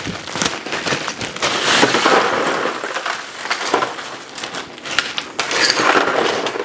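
Ice dumped over extremely hot homemade sausages, a loud, dense crackling and crunching rush with bursts of clatter as the cubes tumble and shift, close and continuous.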